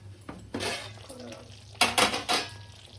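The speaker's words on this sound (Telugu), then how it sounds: "ఒకసారి కూర కలుపుకుందాం" Metal utensil scraping and clinking against a pan while stuffed brinjal masala curry is stirred, a few sharp clanks standing out over a low background hum.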